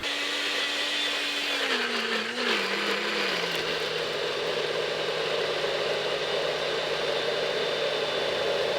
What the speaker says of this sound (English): sometimes you just gotta let it blend, let it do its work, give the machine a shake a little bit